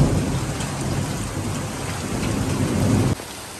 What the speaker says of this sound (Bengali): এত বেশি মাত্রা অতিরিক্ত বজ্রপাত হচ্ছে যে আমি ছাদ থেকে নেমে আসছি